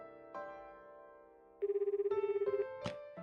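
A phone rings with a melodic electronic ringtone, a run of rapid pulsing tones and shifting notes over a soft musical backdrop, clear and fairly close with no talk.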